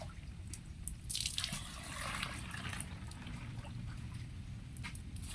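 Rainwater runs through a filter into a container, a steady trickling and dripping of water that stays fairly constant for several seconds, with no talking.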